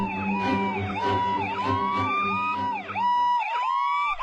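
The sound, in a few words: ambulance siren approaching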